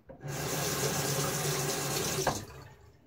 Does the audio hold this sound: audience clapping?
no